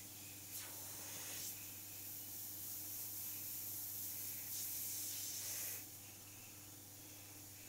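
Airbrush spraying white paint in a soft, steady hiss with a faint hum behind it, swelling slightly in a few short passes as highlights go onto a painted eagle's beak, quiet and close.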